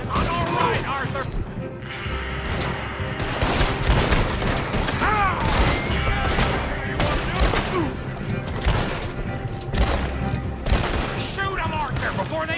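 A gunfight in Red Dead Redemption 2 with repeated close gunshots, heavy rapid fire and occasional crashes. Shouted character dialogue runs over much of the shooting.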